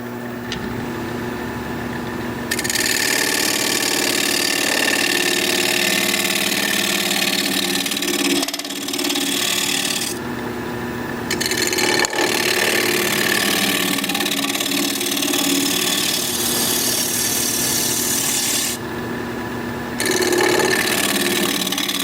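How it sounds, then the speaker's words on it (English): A wood lathe spins steadily while a half-inch bowl gouge cuts a turned bowl, giving a loud, continuous motor drone with bursts of hissing cutting noise that start and stop. "I'm going to switch to a 1/2 inch bowl gouge so I can get in here a little higher, a little tighter."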